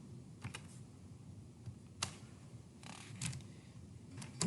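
Sparse keystrokes tap on a computer keyboard in a quiet room, a few isolated clicks and short bursts spread unevenly over a few seconds, faint and close.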